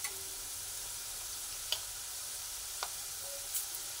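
Onions with turmeric powder sizzle steadily in a hot pan, a soft continuous frying hiss broken by a few faint clicks and stirring touches.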